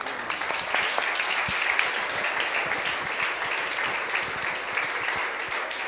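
Worshippers at an evening church service clap together in sustained applause, a dense, steady roar of many hands with a few sharper individual claps standing out near the front.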